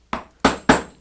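Three sharp hammer taps ring out on a wooden workpiece while cutting hand-tool finger joints at a bench, each strike close and crisp with a short decay, spaced about a third of a second apart.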